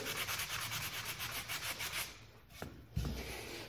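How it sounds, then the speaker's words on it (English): Steady, rhythmic back-and-forth rasping of sandpaper on wood by hand, distressing it for an antique look, close up, followed by a couple of light knocks near the end. "if you need to get in there to do any more little sanding and little cuts, you can do it like this"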